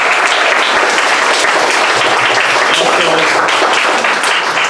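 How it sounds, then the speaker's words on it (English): Audience applause at a Chinese American Museum of Chicago talk event, a dense sustained wash of many hands clapping, loud and steady for several seconds before tapering slightly at the end. "please give another round of applause for Jitesh's work"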